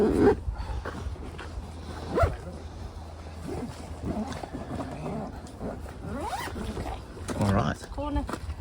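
Zipper on a TentBox Lite XL roof tent being pulled round its track in several long drawn runs, close and fairly loud, with brief talk between pulls.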